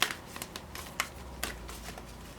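Tarot cards are shuffled by hand in quick, soft riffles and papery slaps, a few distinct flicks standing out over quiet background, close but faint.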